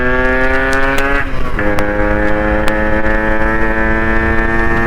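Close, loud idle and blipping of a Yamaha RX 135 two-stroke motorcycle engine, a steady buzzing drone that briefly drops and recovers, with a few sharp clicks over it.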